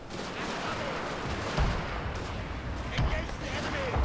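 Artillery fire in the video game Shogun 2 Total War: Fall of the Samurai, with booming cannon shots at irregular intervals over a continuous roar of distant battle noise and scattered gunfire.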